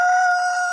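A tiger breed rooster crows in one short, loud, sustained call, close by and alone, a steady held tone over 0.7 seconds.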